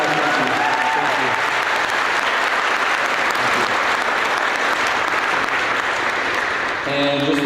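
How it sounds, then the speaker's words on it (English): Audience applause fills a school auditorium at an 8th grade graduation, sustained and dense from start to finish with steady clapping, ending as a voice returns briefly at the close. "I just want you guys to give a round of applause for the following people."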